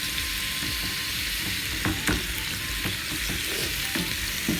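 Pork ribs fry in olive oil with a loud, constant sizzle up close, while scattered clicks and taps from the pan being moved or stirred punctuate the hiss.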